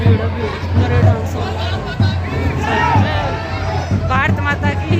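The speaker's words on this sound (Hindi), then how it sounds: "कितनी भीड़ हो रही है" Dense crowd hubbub at a busy Indian outing with dancing and turban-tying stalls, steady overlapping chatter and voices from many people close around, with occasional louder shouts rising out of the babble.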